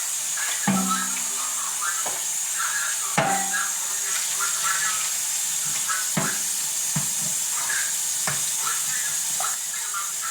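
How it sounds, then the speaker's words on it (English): Tap water running in a kitchen sink while raw chicken strips are rinsed, a faint steady hiss under a few knocks and clatters of handling, with no voices. "I'm gonna go ahead and rinse the meat off again and start seasoning it up"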